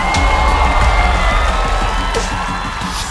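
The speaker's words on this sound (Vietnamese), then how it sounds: "Vỗ tay." A studio audience at a television game show cheers loudly and steadily with some clapping, a continuous crowd roar from start to finish.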